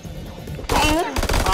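Gunfire in the horror video game House of Ashes erupts as a loud, dense burst of shots and impacts, stopping briefly before resuming, after a quieter opening stretch.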